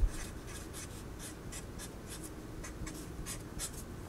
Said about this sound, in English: And maybe I'll just write this again.